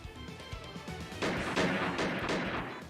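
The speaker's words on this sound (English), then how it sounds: "the gunshots continued once more through the halls" Gunfire in the visual novel Piofiore: Fated Memories, with Falzone family members shooting at a young man through building halls; loud bursts of shots starting after a quieter lead-in, several sharp cracks over a rumbling backdrop.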